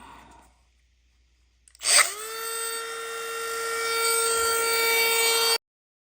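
A power drill drives screws into wood in one long burst, its motor spinning up sharply to a steady high whine that strains slightly under load before stopping abruptly, heard alone at close range.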